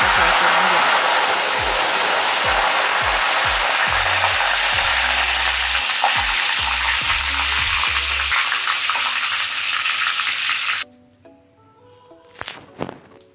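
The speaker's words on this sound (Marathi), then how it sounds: "कढीपत्ता फ्राय करत असताना कढीपत्ता कडक झाला याचा आवाज येतो" Curry leaves fry in hot oil for poha chiwda, a loud steady sizzle with bursts of crackling and stirring clatter that cuts off abruptly, followed by quiet kitchen clinks.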